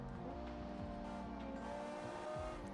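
Car engine with straight pipes in the BeamNG driving game, a steady loud exhaust drone with a few brief tire chirps, heard alone with no talk.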